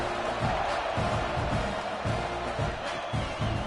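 A stadium crowd roars in a college football video game between Nebraska and Texas A&M before a kickoff, a steady wash of distant cheering and noise that holds at an even level throughout.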